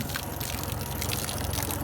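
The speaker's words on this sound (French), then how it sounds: "Ça pisse bien, donc l'impeller fonctionne." Water gushing from the cooling outlet of a running boat engine, its impeller pumping, a steady close splashing rush over the engine's low hum.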